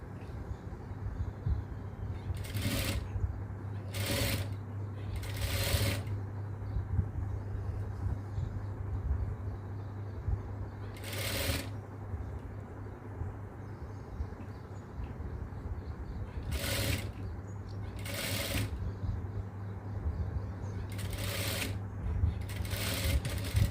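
A sewing machine stitches a baby dress seam in short bursts, several separate runs of rapid stitching over a steady low motor hum, close and fairly loud with no talking.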